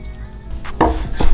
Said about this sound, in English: Nice rough chop.